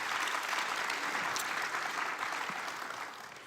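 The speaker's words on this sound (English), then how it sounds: "let's first give them a round of applause" A church congregation gives a warm round of applause, a dense, even wash of clapping that holds steady and then thins slightly toward the end.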